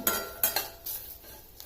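Spices and dal sautéing in a pan for a drumstick vegetable curry: a spatula clinks and scrapes several times in quick succession, close and fairly crisp, over a light background hiss.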